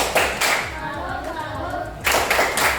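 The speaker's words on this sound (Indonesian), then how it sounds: "tepuk salut dulu buat kelompok 3" A group of teachers in a training session performs the tepuk salut, a patterned rhythmic clap: sharp bursts of clapping open and close it, with chanted group voices in between.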